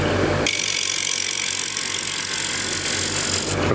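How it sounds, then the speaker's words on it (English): A shear scraper works lightly across a spinning wooden tray on a lathe, giving a continuous hissing scrape over the lathe's steady hum after a brief pause at the start. "Now with the broader, this shear scraper, I'm going to go lightly"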